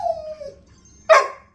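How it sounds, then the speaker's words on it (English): A puppy gives a short whine followed by a single sharp, loud bark close by, with no one talking. "Oh, don't bark. Your bark is very loud and annoying."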